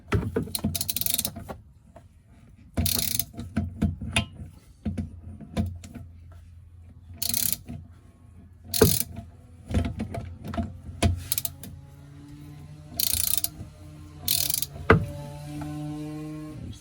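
A ratchet with a 27 mm extension undoing the plastic fuel filter housings on a diesel Jeep Grand Cherokee WK2, heard as close, repeated bursts of clicking ratchet strokes separated by quieter gaps and faint knocks.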